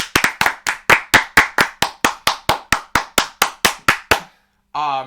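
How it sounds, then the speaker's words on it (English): On a baseball talk podcast, one person claps hands about sixteen times in a steady, even rhythm, close and crisp, then stops, and a voice speaks briefly. "Round of applause"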